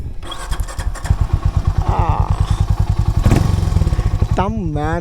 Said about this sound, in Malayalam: നമുക്കിതിൻ്റെ എക്സോസ്റ്റ് നോട്ടും കൂടി കേട്ടോക്കാം.